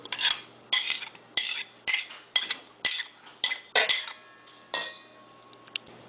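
A spoon mixes chopped scallion into a stuffing in a bowl for stuffed peppers, making about a dozen distinct clinks and scrapes against the bowl at a steady pace, close and clear.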